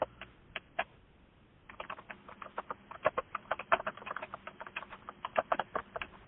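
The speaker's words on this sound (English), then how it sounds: "And we're hearing the keyboard in the background." Computer keys clatter in quick irregular bursts of taps, faint and in the background, after a brief quiet start.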